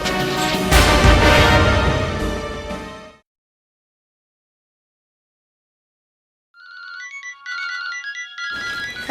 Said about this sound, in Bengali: এই, তোমার ফোন বাজছে তো, ফোন ধরো না কেন?